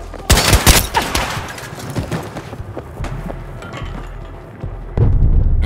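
Gunfire in the video game Battlefield 2042, with a loud cluster of rapid shots at the start, then scattered fainter bursts and thumps, and another heavy burst near the end.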